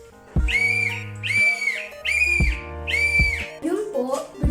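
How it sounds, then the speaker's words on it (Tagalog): An emergency whistle, the kind carried for earthquakes, blown in four sharp, loud blasts at an even pace, close up, followed by a brief fluttering sound at the end. "pwede nyo po gamitin yung pito na ito para marinig ka po ng rescuer"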